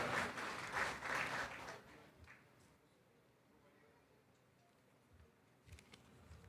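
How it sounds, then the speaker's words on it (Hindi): Audience applause at a community gathering welcoming Sardar Pritam Singh to speak, heavy for the first two seconds, then thinning to scattered faint claps and room noise, with a few isolated claps near the end. "जोरदार तालियों से सरदार प्रीतम सिंह जी का आप स्वागत करें"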